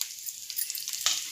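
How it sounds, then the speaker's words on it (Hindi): Curry leaves drop into hot mustard oil for a tadka, giving a brief crackling sizzle with a sharper burst of spitting partway through, close and fairly quiet. "अब इसमें पड़ेगा तड़का। सबसे पहले इसमें मैं डालूँगी कड़ी पत्ता"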